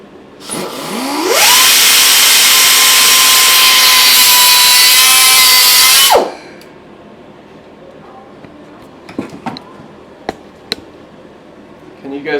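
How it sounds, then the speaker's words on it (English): A rotary power tool cuts a slot into a stud on a Homelite Super 2 chainsaw, spinning up to a loud, steady high-pitched whine for about five seconds before winding down, followed by faint scattered taps and handling clatter. "We just want to cut enough of a slot that we can get a screwdriver in it."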